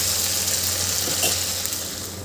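Ground masala paste sautéing in hot oil makes a loud, dense, continuous sizzle throughout, close up and unbroken. No voices are heard.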